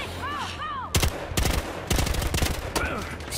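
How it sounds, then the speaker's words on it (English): Gunfire in the cops-and-robbers shooter Battlefield Hardline as shots are aimed at an explosive: four or five loud, close bursts of rapid fire, separated by brief pauses. "Shoot the explosive!"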